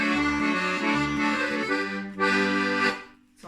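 A piano accordion plays a short tune, bellows-driven chords and melody swelling and fading in a steady rhythm, close and alone with no voices.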